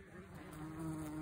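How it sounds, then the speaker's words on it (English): Eastern yellowjacket wasps buzzing steadily at their nest in a cinder block wall, a close, continuous insect drone with no talk. "Beautiful eastern yellow jacket wasp here."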